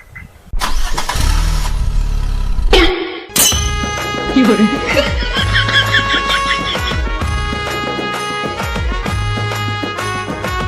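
A vehicle engine cranks and catches, then settles into a steady running drone with music and background voices layered over it.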